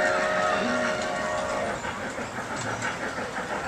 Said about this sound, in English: A train without any tracks.